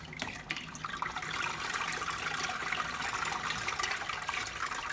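Steady running water pours continuously from a tap, a close, even hiss with no voices, during home tomato sauce making.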